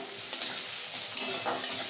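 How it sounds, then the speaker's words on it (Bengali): Onions sizzling in oil in a pan while a spatula stirs and scrapes them, with soft clicks of metal against the pan, close and steady. "পেঁয়াজটা ভাজা ভাজা হয়ে এসছে"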